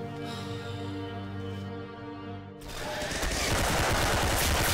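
Gunfire in a shooting video game: a sustained tonal drone cuts off into a dense, loud burst of rapid automatic shots that keeps going to the end, with no talk over it.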